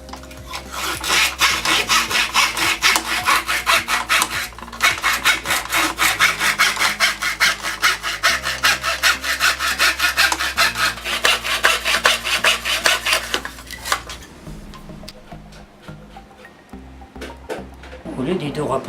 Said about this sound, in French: Je vous montrer maintenant l'utilisation sur une scie classique du dos rapporté.